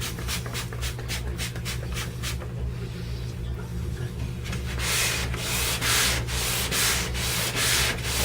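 A sanding block rasps over dried paint on a car body, its strokes rhythmic and close, first in quick repeated passes, then a short smoother stretch, then louder sustained scrubbing.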